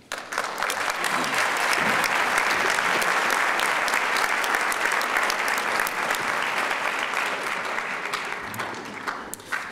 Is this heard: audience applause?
yes